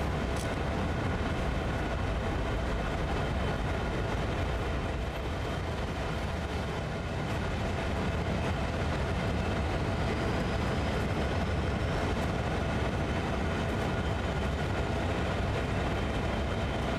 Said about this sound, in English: that locomotive is moving